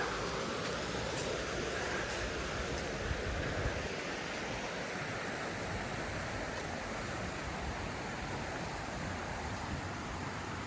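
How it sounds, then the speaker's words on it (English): Water rushes in a constant broadband roar, steady and unbroken throughout, pouring over the end of a low weir in woodland near Sheffield. "the water's kind of just coming over that end part of the weir there"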